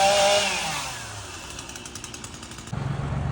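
A chainsaw revs loudly and then settles into a buzzing, pulsing drone as it cuts a shrub, with a deeper engine note picking up at the end.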